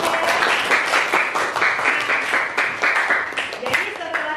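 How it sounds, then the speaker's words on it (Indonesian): Students in a classroom clap together for their classmates during an Islamic lesson, a dense, steady patter of many hands with excited young voices chattering over it throughout. "tepuk tangan untuk teman-temannya"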